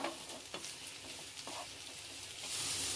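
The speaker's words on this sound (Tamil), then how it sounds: "எண்ணெய் காஞ்ச பிறகு அதில் நூக்கில் சேர்த்து இப்போ அந்த எண்ணெயிலே நூக்கில் நல்லா வதக்கிக்கலாம்." Turnip (nookul) pieces fry in hot oil in a pan, producing a continuous soft sizzle with occasional stirring clicks, close but fairly quiet, swelling slightly louder near the end.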